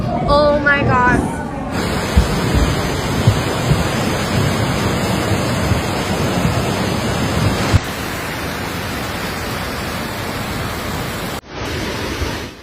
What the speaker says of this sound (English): Flash flooding from heavy rain